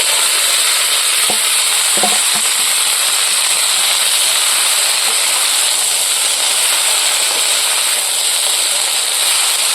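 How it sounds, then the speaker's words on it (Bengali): Arum (ol) leaves fry with garlic in a pan, a loud, dense, continuous sizzle and hiss with a couple of early clinks from stirring. "এবার পাতাটা ভালো করে ভেজে নেবো।"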